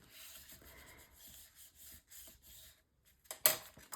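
A paper flap in a mini album is rubbed firmly down to adhere it, making soft, repeated rhythmic swishes of close friction. A louder scuff comes at the end.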